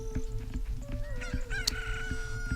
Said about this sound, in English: Look, a chicken hatched from the egg.